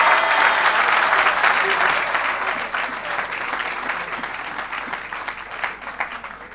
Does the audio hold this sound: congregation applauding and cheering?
yes